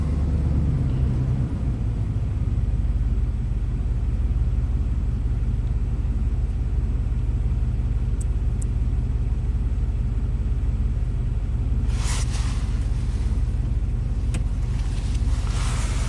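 A rebuilt Ford big block V8 idles steadily at close range, a continuous low rumble with a brief burst of hiss and rattle near the end.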